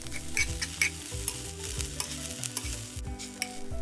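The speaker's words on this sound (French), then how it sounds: "On met un peu de sel et on fait revenir le tout." Vegetables seasoned with salt are stir-fried in a pan, a steady sizzle broken by repeated scraping and clacking of the utensil against the pan in a quick, irregular rhythm.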